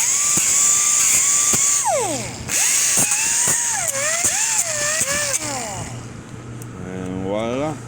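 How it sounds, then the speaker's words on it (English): An angle grinder lightly grinding metal on a 1999–2006 Chevy HD truck, its loud, close, high-pitched motor whine rising and falling as the disc touches and lifts, with brief spin-down sweeps. "So with the grinder, just lightly grind."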